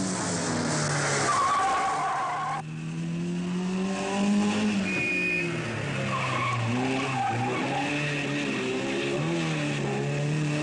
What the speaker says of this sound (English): And Annie Swabo spun her triumph.